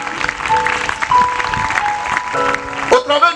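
A church congregation claps and cheers to acclaim the word of God during an evangelical sermon, a moderate burst of applause mixed with voices and shouts.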